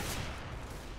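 An AWP sniper rifle shot in Counter-Strike: Global Offensive deathmatch, a single short dense burst of gunfire that fills the whole brief moment.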